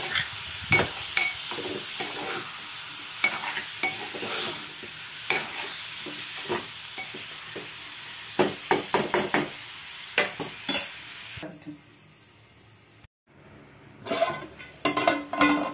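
Chicken pieces frying in a pan for a village-style curry hiss steadily while a spatula scrapes and clanks against the metal in repeated strokes, close and loud, before a brief pause and more stirring.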